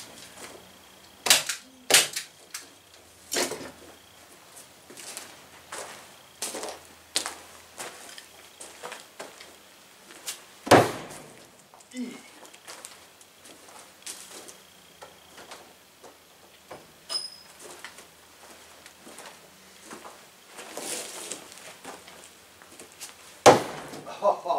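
Axes launched from a catapult strike a playing-card target in a series of sharp, loud wooden thwacks and cracks, scattered irregularly among quieter ticks and handling noises outdoors.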